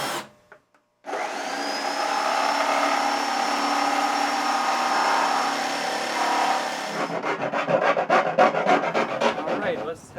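A jigsaw cuts around a hole for a hydroponic tower in a steady, loud, close buzz, then turns into a rapid rough chatter as the cut finishes.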